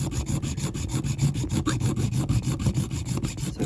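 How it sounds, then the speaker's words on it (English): An old junior hacksaw cuts through a die-cast Corgi Mercedes ambulance toy car in fast, steady back-and-forth strokes, giving a close, continuous rasping rhythm. "so I'm going to make do with the old trusty junior hacksaw"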